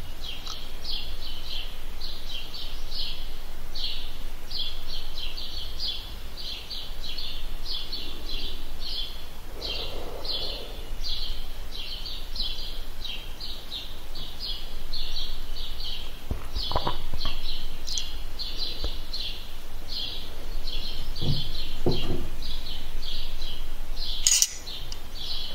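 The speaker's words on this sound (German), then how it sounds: "im Hintergrund die Vögel" Birds chirp steadily in the background outdoors, recorded on an Olympus DM720, a continuous layer of repeated tweets with a few louder knocks and thumps near the end.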